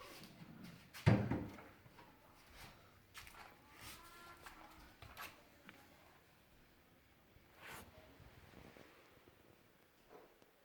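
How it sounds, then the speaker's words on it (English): Fireplace doors swing shut with a single loud clunk near the start, followed by quiet rustles and small knocks from the hearth. "we need to close the doors"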